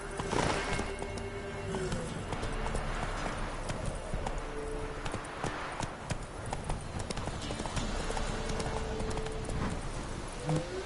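Roach the horse trotting in The Witcher 3, with steady rhythmic hoofbeats clip-clopping continuously and close, layered over dense in-game ambience and a brief low voice.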